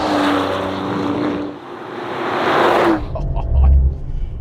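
A Maserati Grecale Trofeo SUV engine roars loudly as it accelerates hard and shifts up, its rising drone breaking off sharply at the gear change, with wind rush and an in-car voice heard over it.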